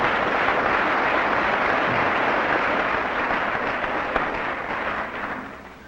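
Sustained audience applause for Mr. Urban at a 1958 dedication ceremony of the Topeka VA medical center, a dense steady clapping from a crowd that fills the room and then tapers off toward the end.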